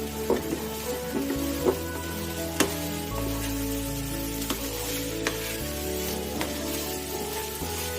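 Prawns sizzle and fry with spices in a pan for a chingri dopeyaja, a steady close crackle broken by occasional stirring clinks and scrapes, with a low hum running underneath and no talk.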